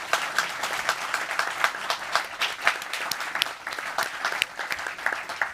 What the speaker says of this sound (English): please, a big round of applause for the great panelists